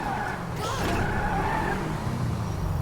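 A car drifts in GTA 5, tires skidding and squealing under a steady engine roar, close and fairly loud, with a faint voice in the background.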